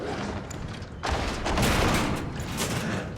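Rapid gunfire from pistols and a machine gun blasting zombies in the Resident Evil 2 Remake, a dense, loud flurry of shots that swells after the first second and continues without pause.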